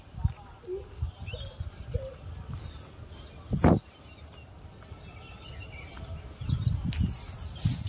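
Birds chirp and tweet faintly in the open air at Naimisharanya Dham, with scattered calls amid outdoor ambience and some nearby rustling.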